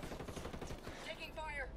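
Rapid bursts of gunfire crackle through a shooter video game firefight, dense and continuous under background noise, with brief tonal game effects toward the end.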